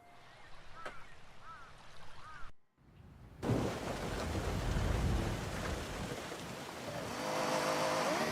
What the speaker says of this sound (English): Wow, look at this rain.